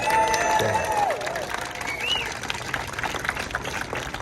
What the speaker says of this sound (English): big cheer to the Master Gardeners.